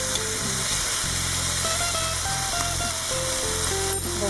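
Small sausages sizzle steadily in a pan with white wine, a continuous crackling fry close up with faint clinks of a utensil, no talking.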